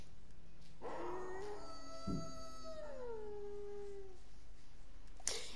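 Howl emote from the Fortnite video game, a single drawn-out wolf-like howl that rises and bends down over a few seconds, heard alone against quiet background.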